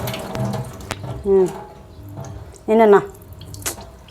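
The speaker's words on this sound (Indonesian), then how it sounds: "ini saya siram dulu pakai air" Tap water is splashed and poured while cleaning a rusty home, heard as short gurgling bursts and drips close by, mixed with a speaking voice.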